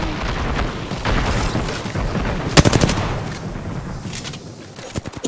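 Gunfire in Apex Legends, loud bursts of rapid shots with booming impacts and explosions, dense and close, then a sharp cluster of cracks midway and scattered shots trailing off.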